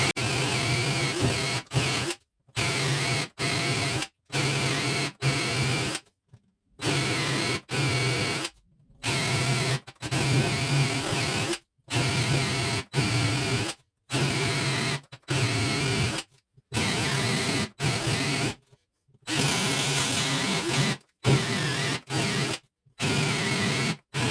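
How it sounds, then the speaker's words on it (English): A Parkside Performance 20V cordless drill whirs in repeated bursts of a few seconds each while drilling holes, separated by short silences, close and loud with no talking. "Let's drill some holes in here."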